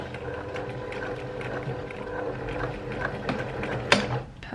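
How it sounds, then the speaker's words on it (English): A domestic sewing machine runs steadily while closing a gap on a bias-cut dress, a quiet continuous mechanical whirr with light ticking and a brief sharper clunk near the end. "then I just sewed the gap closed"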